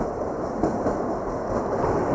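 The Kalka–Shimla toy train rumbles steadily along the narrow-gauge mountain track, a constant low roar with faint rattling, close and continuous.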